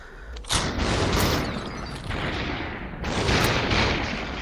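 Shotgun blasts in a VR shooter game on a Quest 2 headset: a sharp loud report lands near the start, with a second burst about two and a half seconds later, each trailing into a sustained rumbling wash of gunfire and battle noise.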